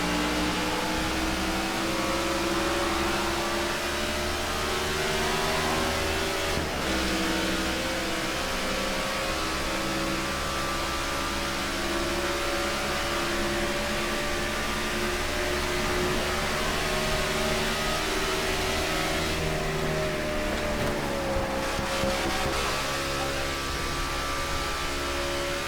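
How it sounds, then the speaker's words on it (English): Race cars in the NASCAR '15 video game roar through a night All-Star race at Charlotte Motor Speedway, a dense, steady engine drone with shifting pitch as the pack runs on, loud and continuous with no talk. "The green flag in the air, and we are underway here in the All-Star race."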